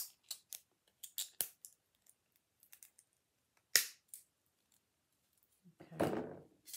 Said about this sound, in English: we're going to cut that off in the back because we don't want to get hurt